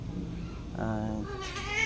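A pet cat meows twice in quick succession, close by and fairly clear, with a faint room background and no talking.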